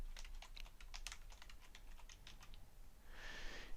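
Rapid keystrokes on a computer keyboard as a shape label is typed in process-mapping software, a quick burst of clicks for about two and a half seconds, then a brief higher hiss near the end.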